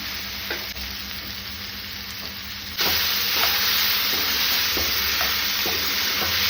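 Tomato drops into a pan of frying onion, green chilli, ginger and garlic, and the steady close sizzle abruptly swells louder and harsher, continuing with light stirring and no talking.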